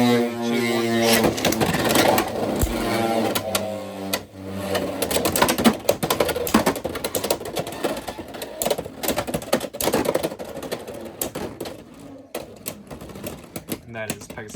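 Beyblade X spinning tops Pegasus Blast and Drawn Brave clashing in a plastic stadium, a dense rapid clatter of grinding and ticking impacts that fades and restarts, with a voice counting down and talking over it.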